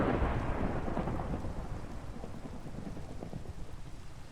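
Minecraft storm weather: a heavy thunder rumble opens loud and close, then rolls and decays while steady rain patters underneath, with no voices.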